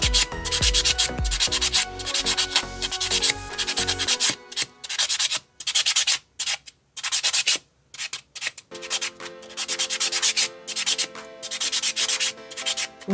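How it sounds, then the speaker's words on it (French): Fingernails with applied capsule tips being buffed with a nail buffer, producing rapid, rhythmic dry rubbing strokes, close and fairly loud, in short bursts with brief pauses and no talking. "On va passer un coup de polissoir."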